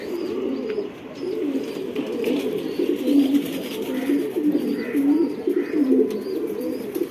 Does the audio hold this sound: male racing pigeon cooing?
yes